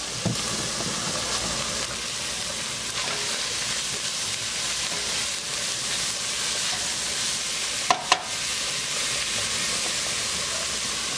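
Homemade goulash ingredients sizzle in a frying pan, a steady close hiss with fine crackle that runs unbroken throughout, with a pair of brief sharp clicks near the end and no talking.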